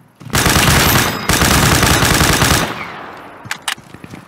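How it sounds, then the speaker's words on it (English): Rapid automatic gunfire in the video game Deadside, a loud sustained burst of close shots, then a brief pause, another long burst, and a few scattered distant shots trailing off. "Somebody's still shooting."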